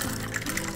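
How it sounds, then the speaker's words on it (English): A holiday drink with citrus is poured into glasses in a brief, close liquid splash and trickle. "And then you can pour up the drinks"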